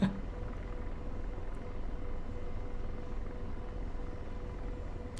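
A drone flying overhead, giving off a steady, even whirring drone with broadband noise and a faint tonal hum that holds at constant loudness throughout.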